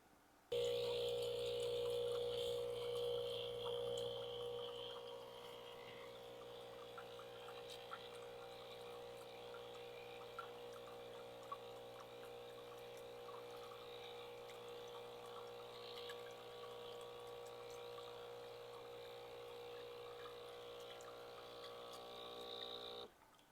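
A Breville Barista Express steam wand runs continuously during a descale cycle, a steady loud hiss with a humming pump tone that is strongest in the first few seconds, then settles into an even rush until it cuts off at the end.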